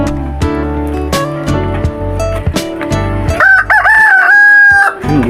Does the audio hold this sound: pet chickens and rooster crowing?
yes